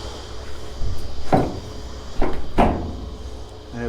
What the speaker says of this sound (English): Let's close that door behind me.